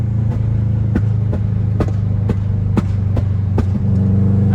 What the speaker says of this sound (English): I've got to have my foot barely on the throttle, and then if I tap the throttle it makes louder pops.